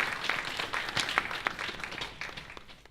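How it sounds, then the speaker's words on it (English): A conference audience applauds at a keynote event: a dense, even round of many hands clapping together, moderately close and unbroken throughout. "Can we give him a round of applause,"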